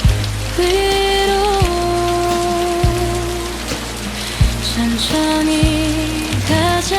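Steady rain patters on a surface in a rainy Korean-style café setting, a constant wash of noise heard under gentle lo-fi music with sustained tones.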